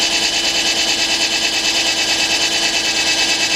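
A 2004 Nissan Maxima's 3.5 engine, which has a cylinder 1 misfire, idles loud and close, giving a steady fast-pulsing hum with a dense high whir and no talking.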